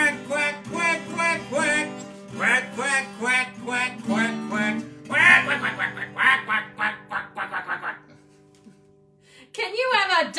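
A voice imitating a duck quacks its way through the alphabet song in a rhythmic run of nasal quacks, close and clear, followed by a brief pause and then more voice.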